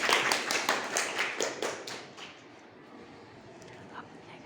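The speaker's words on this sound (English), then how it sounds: "Clap for Laika." Small group of children clapping in a classroom, a quick burst of claps that fades after about two seconds, leaving quiet room tone.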